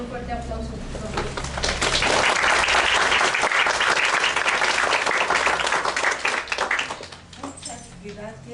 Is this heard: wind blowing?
no